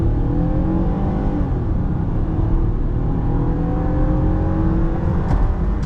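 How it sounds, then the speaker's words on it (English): A 2009 Toyota Camry XLE V6 engine hums steadily from inside the cabin during a drive, a continuous loud drone with rising and falling tones as it pulls under load. "hearing this V6 sing its melody"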